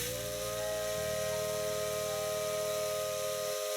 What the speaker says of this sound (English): The steam whistle sounds out.